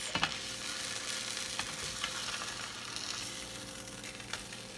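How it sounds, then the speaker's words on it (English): A buffalo chickpea quesadilla frying in a pan after being flipped, a steady close sizzle with small crackles and pops throughout and no voices. "I'm gonna flip the quesadilla so it can grill on the other side"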